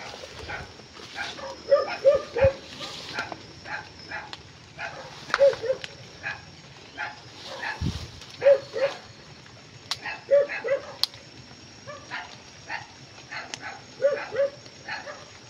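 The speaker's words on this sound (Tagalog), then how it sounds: "may bahay dito, may ano, maraming aso" Several dogs bark repeatedly near a house at night in short, scattered bursts through the clip, some sounding fairly close and others further off.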